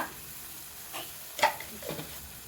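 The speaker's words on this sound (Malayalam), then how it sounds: "ഇഞ്ചി വെളുത്തുള്ളി പച്ചമുളക് ചെറിയ ഉള്ളി ഇതെല്ലാം കൂടിയിട്ട് ചതച്ചെടുത്തതാണ് കൂടി ചേർത്തിട്ട് നന്നായിട്ട് വഴറ്റി കൊടുക്കാം" Crushed ginger, garlic, green chilli and shallots sautéing in a pot for prawn biryani, a faint low sizzle with a couple of brief stirring scrapes and taps.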